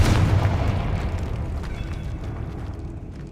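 A loud, booming Confringo blasting-curse explosion from the Hogwarts Legacy video game, set in a decayed catacomb, hits at once and then rumbles and slowly decays over several seconds.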